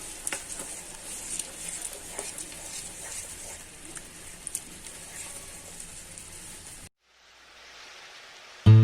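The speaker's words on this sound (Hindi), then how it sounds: "दूध डालने के बाद इसको लगातार चलाना है। गाढ़ा होने तक इसको लगातार चलाते रहना है।" Milk sauce thickening in a pan gives a soft, continuous bubbling sizzle with faint scraping as it is stirred, quiet and close, cutting out abruptly near the end.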